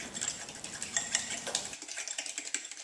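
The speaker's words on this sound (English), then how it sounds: "take your fork and vigorously mix the egg and the vanilla into the butter and sugar" Fork vigorously mixing egg and vanilla into butter and sugar in a bowl: quick, light, steady clicking and scraping strokes, close and fairly quiet, with no talking.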